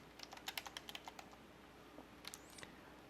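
Faint, quick keystrokes on a computer keyboard, a rapid run of light clicks followed by a few more scattered taps, heard alone in a quiet room.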